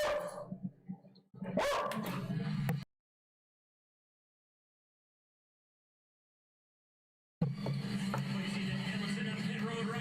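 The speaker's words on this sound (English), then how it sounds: "Sorry about the dogs, folks." Dogs bark a few sharp times close by at the start, mixed with other noise, then everything drops into complete silence for several seconds before a steady wash of background sound returns.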